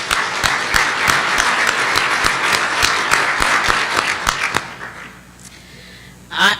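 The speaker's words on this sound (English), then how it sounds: "let's give her another round of applause." Audience applause at a 2018 Step Up AZ speakers event, a dense patter of many hands clapping that holds steady for several seconds, then thins out and fades into quiet room tone with a brief rustle at the end.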